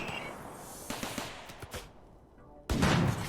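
Turrets in the RimWorld video game fire on raiders in a few sharp shots, followed by a quieter lull, then a loud, dense burst of gunfire at the end.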